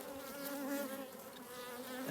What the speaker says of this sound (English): so lots of bouncing bees